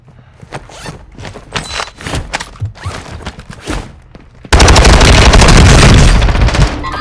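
Gunfire in the Warzone 2.0 video game: sharp shots and bursts come in an irregular run, then a sudden, sustained loud roar of rapid fire and noise takes over for the last few seconds.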